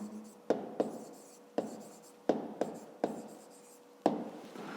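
Pen strokes scratch on paper while math work is written down, six or seven distinct taps and short scrawls spaced unevenly, close and quiet, with no talking.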